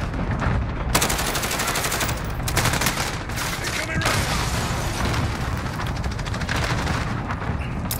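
An artillery strike in Modern Warfare, game mode Plunder, arrives as a dense, continuous barrage of gunfire and booming impacts that stays loud for the whole stretch, with brief radio-style voices mixed in underneath.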